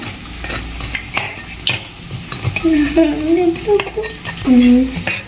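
Badhusha sweets are stirred in sugar syrup, with soft wet scraping and occasional clinks of a utensil against the pan, close up alongside faint background tones.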